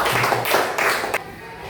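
A short burst of audience clapping in a campus classroom or hall, a few seconds of loud, fairly close handclaps that stop abruptly.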